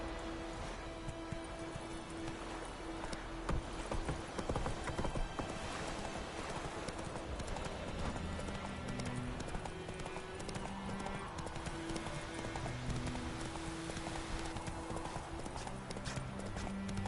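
Horse hooves clip-clop steadily while riding in The Witcher 3: Wild Hunt, a continuous galloping rhythm layered under game music and ambience, with a brief whinny and faint voices now and then.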